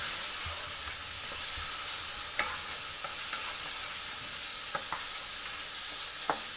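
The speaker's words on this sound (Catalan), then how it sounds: "Ja tenim la sípia marcada i ja afegim el sofregit que hem fet prèviament amb all, ceba i tomàquet" Sofrito of garlic, onion and tomato added to seared cuttlefish in a pan for seafood rice with cava, giving a soft, steady sizzle with a few sharp clicks of stirring, fairly quiet throughout.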